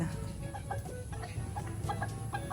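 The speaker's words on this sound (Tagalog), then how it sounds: "Dito pala ay madaming tinaling manok." Several tethered chickens cluck and chatter nearby in short, repeated bursts over a steady outdoor background hum.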